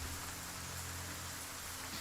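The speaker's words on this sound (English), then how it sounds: "So we hear the sound of rain coming down around." Rain falls steadily all around, a dense constant hiss of drops on surfaces with no pauses and no voices.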